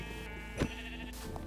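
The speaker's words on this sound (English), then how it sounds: "Now we got some more sheep sitting over here." A single short sheep bleat from a Minecraft game, faint and brief amid a quiet, steady game background hum.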